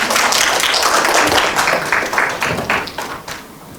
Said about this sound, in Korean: 발표를 해주신 두 분께 다시 한번 큰 박수 부탁드리겠습니다.